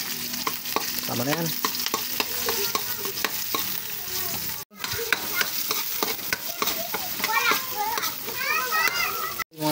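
Garlic, onion, ginger and chili sizzle in a pan for pork maskara Bicol express, with repeated scraping stir strokes. Children's voices and talk run over the frying throughout.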